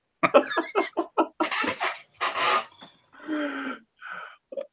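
Several sharp, breathy sniffs close to the mic, with short voiced gasps and snorts between them in an irregular rhythm.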